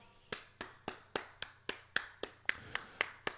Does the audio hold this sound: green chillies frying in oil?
no